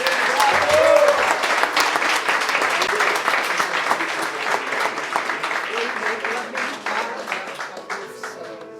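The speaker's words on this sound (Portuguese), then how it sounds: "Senhoras e senhores, recebamos com aplausos o trancista Tiago Soares Fonseca." Sustained, dense applause from a seated audience at a formal commemorative ceremony, steady and close throughout, with a brief voice audible near the start.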